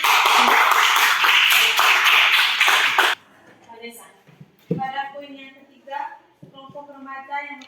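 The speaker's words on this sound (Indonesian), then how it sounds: "Oke, baik, tepuk tangan untuk" A classroom of students claps for a classmate in a loud, dense burst lasting about three seconds, then stops abruptly and a student begins speaking.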